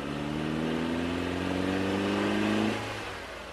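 Car engine revving up as the accelerator is pressed, a steady rising mid-pitched drone that climbs for about two and a half seconds, then eases off and fades, close and clear with no voices.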